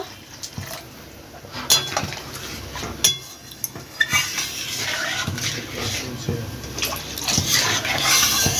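Water is poured into a pan of frying spice paste for an egg and sesame curry, a close sizzling, splashing rush that builds and grows louder, with a voice talking over it.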